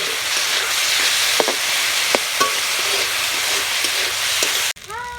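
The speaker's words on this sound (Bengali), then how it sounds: "এবারে সব কিছু ভালো করে মিশিয়ে নেব" Chow mein being stirred and tossed in a hot pan with soy, chilli and tomato sauces, a steady loud sizzle with scraping strokes throughout, cut off abruptly near the end by a short clatter.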